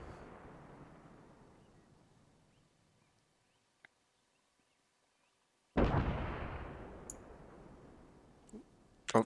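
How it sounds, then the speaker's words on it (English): Artillery rounds from an Arma 3 fire support strike impact and explode, one booming blast rolling away into a long decaying rumble, with a faint earlier tail and sharp distant cracks near the end. "now you can see the rounds impacting"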